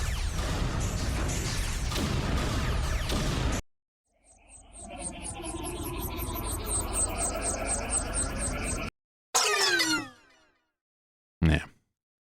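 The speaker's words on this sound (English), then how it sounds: "Some sci-fi noises." Assorted sci-fi sound effects from the Warner Brothers library: a loud dense burst, then a warbling, sweeping electronic tone with rising chirps, followed by two short sharp blasts separated by silence.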